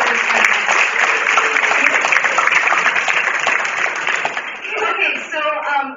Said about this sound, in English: Let's give Sheila Wright a round of applause for being a really awesome supportive president.